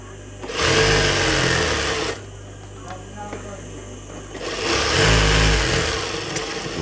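A sewing machine stitches a salwar in two loud bursts with a quieter pause between, the motor whirring steadily close by during each run.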